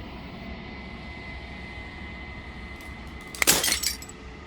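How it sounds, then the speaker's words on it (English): Glass shattering in the video game Slay the Princess, a short loud burst of breaking fragments arriving near the end after a quiet, steady ambient hum. "As the final fragment of glass shatters, you see yourself with newfound clarity"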